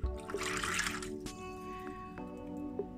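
Warm water pours into a bowl for steamed dumpling dough, a short close splash and trickle followed by faint drips and small clinks.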